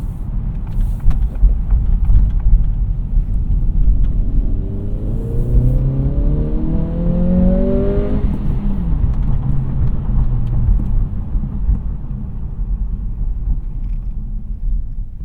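A Honda Integra engine roars steadily at full throttle with traction control off, its pitch climbing as it accelerates hard before the harmonics fall away into a continuous rumble.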